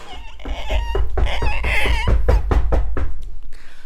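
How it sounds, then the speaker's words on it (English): Loud, sharp knocks sound on a door in a quick irregular series of separate hits, with no voices over them. "He was knocking at the door."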